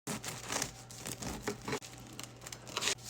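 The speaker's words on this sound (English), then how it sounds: "All right, time to cut into this one." Knife sawing through the crust of a fully cooled homemade sourdough loaf, close crackly crunching strokes in several bursts.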